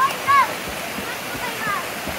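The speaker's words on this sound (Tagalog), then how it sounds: "Manilahang falls." Rushing water pours steadily at Casilak Bamboo Falls in New Cortez, New Corella, Davao del Norte, a constant broadband roar with a few faint chirps and distant voices in the background.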